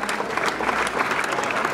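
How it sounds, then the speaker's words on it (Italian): An audience at a violin museum ribbon-cutting ceremony in Cremona applauds, dense steady clapping close and loud throughout without pause. "che accogliamo con un applauso"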